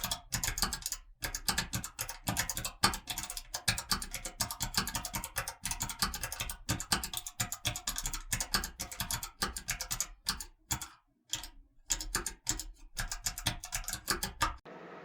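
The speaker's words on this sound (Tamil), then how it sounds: "ஸோ CSS எப்படி பண்ணுறேன்னு மட்டும் நான் கொஞ்சம் வேகமாக டைப் பண்ணுறேன்" Rapid, continuous keystrokes on a computer keyboard while CSS code is typed, close and steady with dense clicking and a few brief pauses, no voice.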